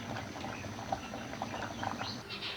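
Lasagna sheets boiling in a pot of water for a chicken cheese lasagna: soft, fast bubbling and popping at close range, fairly quiet and continuous, with no talking.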